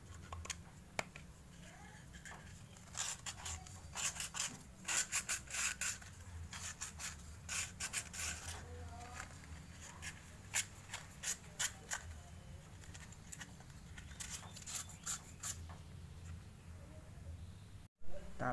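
Sandpaper rubbing the inside of PVC pipe joints before gluing, for a catfish bucket setup: a steady run of scratchy strokes, close and moderately quiet, continuing for a while with no talk.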